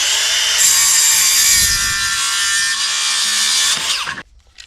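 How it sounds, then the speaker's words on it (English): A circular saw cuts through wood guided along a square, a loud, close, harsh buzzing rip lasting about four seconds before the blade leaves the board and the sound drops away abruptly. "Run my saw along my square."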